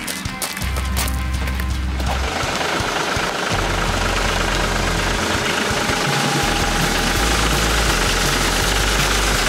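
A large farm tractor engine runs while being driven, giving a loud, steady rumbling drone with rough knocking texture and no voices.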